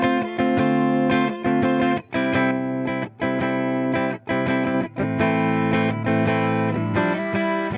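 Distorted electric guitar through a silicon distortion circuit in an amp simulator plays a series of bright, gritty chords and notes, loud and close, with brief gaps between phrases.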